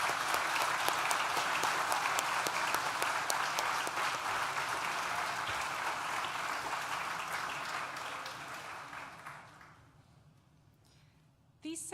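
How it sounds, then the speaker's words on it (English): A graduation ceremony audience gives sustained, dense applause in a large hall that fades out near the end, leaving near quiet before a faint sound at the close. "Please join me in thanking them with a well-deserved round of applause."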